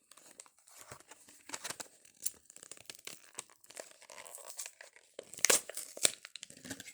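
Plastic and cardboard packaging on a Cadillac toy car is torn and crinkled open up close, a busy run of rustling and ripping that ends with a couple of louder tearing bursts.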